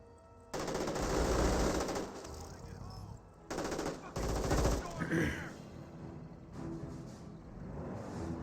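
MG42 machine gun fire in the video game Company of Heroes rattles in loud sustained bursts with short pauses, layered over battle ambience.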